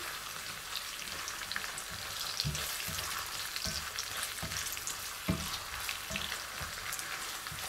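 Ginger frying in a pan with garlic already browning, a dense continuous sizzle with soft periodic thumps and scrapes of stirring, close and even, with no speech.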